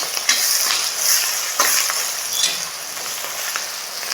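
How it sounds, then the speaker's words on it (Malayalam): Green chilies, ginger and garlic sauté in a pan for a chicken pickle, a steady close sizzle broken by scraping stirs and light clinks of the spoon, with no talking. "ഇനി ഇതെല്ലാം കൂടി നന്നായിട്ടൊന്ന് വഴറ്റിയെടുക്കാം."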